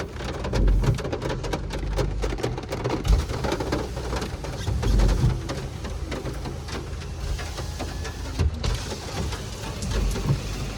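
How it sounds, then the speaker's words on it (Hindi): Heavy rain pours steadily onto a car in Amritsar, a dense continuous hiss with occasional low thuds and rumbles beneath it. "ये खतरनाक वाली बारिश कुछ भी नहीं दिखाई दे रहा है"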